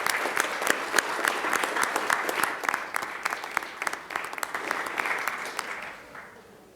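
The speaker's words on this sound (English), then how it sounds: "Let's give them one more round of applause as they leave." An audience gives a round of applause as honorees leave a recognition ceremony, with crisp individual claps building and gradually thinning out toward the end.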